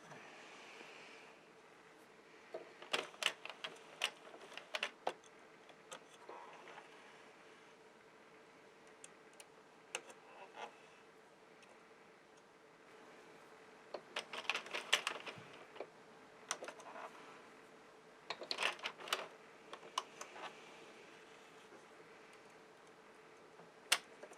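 An Addi knitting machine casting off stitches gives quiet plastic clicks and ticks, coming in irregular bursts with pauses between, near and fairly faint, with no talking.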